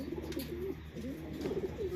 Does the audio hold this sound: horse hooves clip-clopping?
no